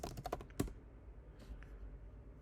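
A command is typed on a computer keyboard to install Flutter: a quick run of close, crisp keystrokes, then near silence with faint room noise.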